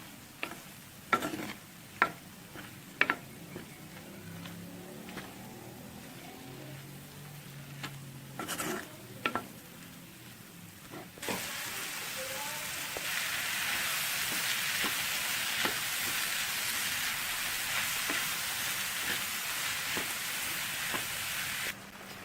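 Button mushrooms are stirred in a pan for aglio olio, starting with scattered scraping clinks of a utensil, then a steady frying sizzle rises and continues under occasional stirring knocks, close and fairly quiet.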